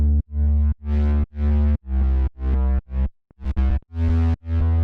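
Synthesizer sound run through a distortion effect in electronic music sound design, a loud, buzzing, harmonically rich tone played as a rhythmic series of about nine sustained stabs with short gaps between them.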